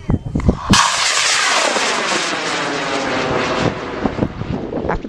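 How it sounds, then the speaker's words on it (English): A powerful high-powered model rocket motor ignites with a sudden roaring blast that hisses and rumbles loudly for several seconds, slowly fading as it climbs away, with crowd noise underneath. "This is a good-sized rocket, so it should make a lot of noise going on the way up."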